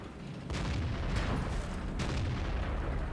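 Tank cannon shots in World of Tanks, a Centurion 7/1 firing from a hillside: two or three heavy booming blasts around a half second apart, set over a constant low rumble of engine and battle noise.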